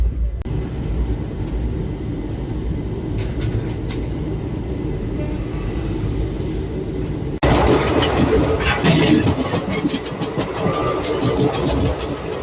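A Palnadu Express train runs on after pulling out of Chityala station, a steady loud rumble of wheels and carriage noise that swells louder and brighter partway through, with no talking.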